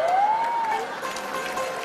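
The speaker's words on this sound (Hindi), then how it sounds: "एक बार जोरदार तालियां हो जाए" Audience applause at a popular actor award event, a dense steady wash of clapping that holds for about two seconds with a thin whistle-like tone rising over the start.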